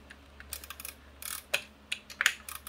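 Stitch setting being changed on a Kenmore 89 Lady K sewing machine, quiet close mechanical clicks and short ratcheting snaps in an irregular sequence.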